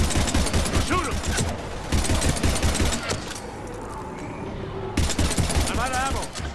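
Heavy automatic gunfire from the Mass Effect 3 video game, loud sustained bursts in three stretches separated by a brief lull, mixed with game voices and battle noise.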